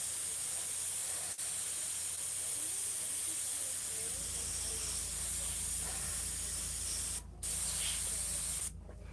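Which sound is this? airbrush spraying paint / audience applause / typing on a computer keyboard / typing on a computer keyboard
airbrush spraying paint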